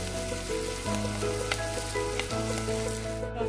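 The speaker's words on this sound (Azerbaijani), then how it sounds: "İndi qarışdırıram, bir bağlacaq, rəngi dönəcək, yumuşalacaq soğan." Onion frying in butter crackles with a dense, steady sizzle while a utensil stirs it, giving a few soft scrapes and clicks up close; no voices.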